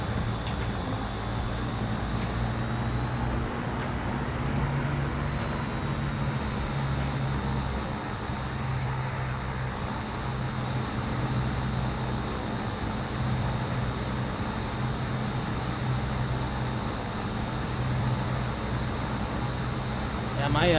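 A Pilatus PC-12 turboprop in a flight simulator throttles up for takeoff, giving a steady, loud engine drone with a constant high whine that barely changes throughout.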